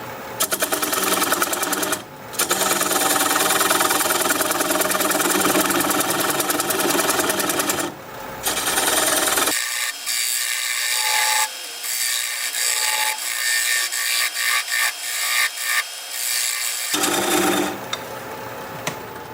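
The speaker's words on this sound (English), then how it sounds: "I'm going to grab a 3/8 inch bowl gouge and commence to removing that tenon." Wood lathe turning a red cedar bowl at about 600 RPM with a 3/8 inch bowl gouge: loud, steady close-up cutting roar and scraping hiss with brief pauses as the tool lifts off, the motor hum carrying through.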